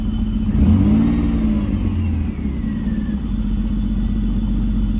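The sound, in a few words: BMW engine running after misfire fix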